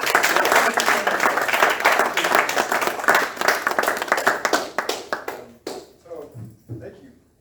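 An audience at a Milwaukee Medicare for All forum applauds Wisconsin Revolution, a dense burst of clapping that thins into scattered claps and fades to near silence, with a voice speaking over it.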